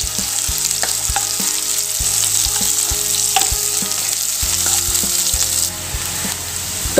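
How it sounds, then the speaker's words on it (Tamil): Chopped onion and fennel seeds sizzle steadily in hot oil in a pan, with regular clanks of a spoon stirring against the metal, close and continuous with no talk. "இப்போது பொடியாக கட் பண்ண ஒரு வெங்காயத்தையும் உள்ள சேர்த்து வெங்காயம் நல்லா கலர் செஞ்சாயி வதங்கட்டுங்க."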